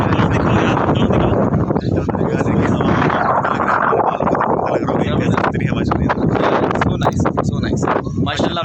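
Strong wind rushes steadily across an open village, a loud broadband roar buffeting the microphone throughout with a few brief gusty swells, while someone talks over it.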